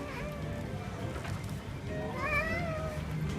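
A cat meows softly a couple of times over a quiet room hum, the second meow rising and longer, with no clear talking.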